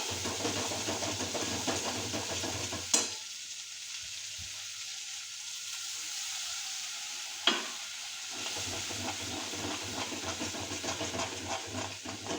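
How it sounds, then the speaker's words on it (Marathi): Spices fry in hot oil for a home-style palak paneer, a steady broadband sizzle running throughout with a couple of sharp utensil knocks, and a brief quieter stretch in the middle. "मसाले तेल सुटेपर्यंत चांगले परतून घेऊ."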